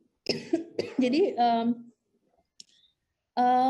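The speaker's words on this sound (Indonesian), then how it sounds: "Mohon maaf saya masih batuk." A short cough breaks through amid a person's talking, followed by a pause and more speech.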